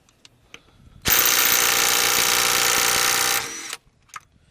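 Bauer 20-volt impact driver hammering a half-inch bolt free at 120 foot-pounds: a loud, steady rattling burst of about two and a half seconds, close up, after faint handling noises and before brief clicks and quiet.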